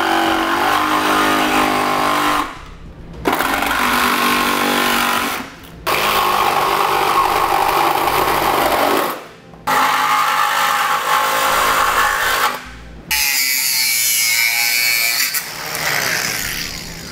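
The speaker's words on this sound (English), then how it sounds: "I'm going to use a reciprocating saw in order to begin cutting that out." A reciprocating saw cuts through plastic trim on a 2016 Chevrolet Traverse, loud continuous buzzing in four long bursts with short pauses between, the final stretch rougher and more rattling, close by with no talking.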